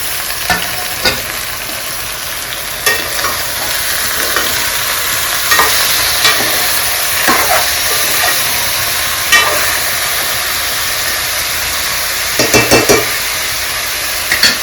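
Ridge gourd and tomato sizzle steadily in a hot pan, a constant loud frying hiss broken by occasional scraping clicks of stirring, with no talk.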